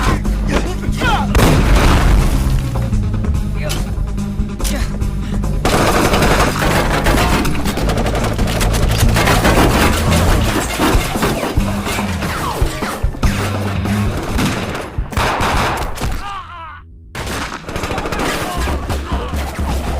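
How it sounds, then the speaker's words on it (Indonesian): Dense, chaotic gunfire from the film Flash Point, with booming blasts and crashes over a loud, continuous mix of cinematic sound and music, briefly dropping out near the end. "tembak-tembakan membabi buta pun tak terhindarkan"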